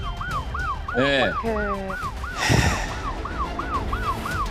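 Police car siren wailing loudly and steadily in repeated rising-falling cycles throughout a chase, with brief crash-like bursts and a short spoken exclamation over it.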